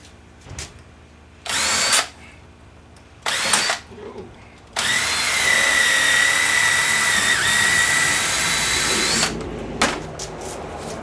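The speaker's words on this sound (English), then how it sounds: "And then I could take my regular drill bit, drill through it" A power drill with a regular bit bores a hole during a dinghy repair, running loud and steady for about four seconds after a few short bursts, with brief talk before and after.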